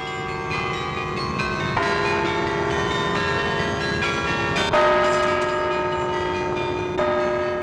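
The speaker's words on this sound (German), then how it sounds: "Zum Nachmittagscafé wird im Glockenturm das Wunschkonzert für alle serviert." Carillon bells in a Brussels bell tower play a request concert in 1958, ringing as sustained, overlapping melodic tones that keep a steady, fairly loud level throughout with no voices.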